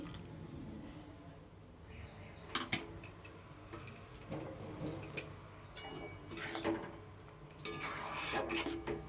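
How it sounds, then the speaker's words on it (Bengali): A jar being rinsed and filled with water in a home kitchen while making doi potol, quiet scattered clinks, rubbing and splashes with a few sharper knocks against the jar, soft and close. "এই জারটা ধুয়ে আমি জল দিয়ে দিচ্ছি।"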